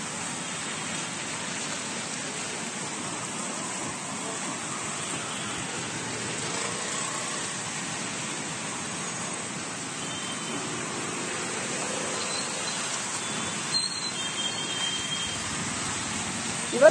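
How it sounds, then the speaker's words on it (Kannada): Heavy rain pouring steadily over a flooded street in Sai Layout, Bangalore: a dense, unbroken hiss of falling water, fairly loud and constant, with no voices. "ಮುತ್ತಪ್ಪ ನಿರಂತರವಾಗಿ ಮಳೆ ಸುರಿತಾನೆ ಇದೆ, ಮಳೆ ನಿಲ್ತಾನೆ ಇಲ್ಲ"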